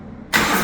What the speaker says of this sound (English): Yep, typical factory Harley exhaust